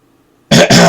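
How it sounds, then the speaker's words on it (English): A person clears their throat twice in quick succession, loud and close after a moment of near silence. "I gotta clear my throat for this one."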